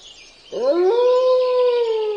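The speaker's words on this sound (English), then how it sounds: "You ever wonder why some dogs howl and others don't?" A Siberian husky lets out a single long, loud howl that swells in after a brief pause and holds steady with a slight rising bend, close and alone with no talk.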